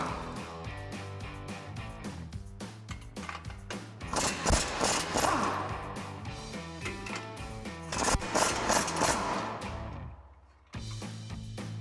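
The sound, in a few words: socket wrench removing 18mm suspension nuts on F-150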